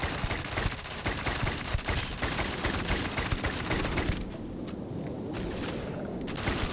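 Sustained automatic fire from an old AK-47-style assault rifle in the video game Starfield, a dense loud continuous rattle of shots that briefly thins out before resuming.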